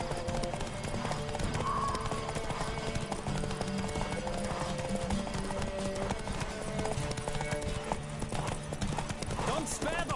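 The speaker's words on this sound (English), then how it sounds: "Don't spare the horse!" Rhythmic hoofbeats of a galloping horse in The Witcher on PS4 thud steadily throughout, with a brief whinny, set over a busy game soundtrack.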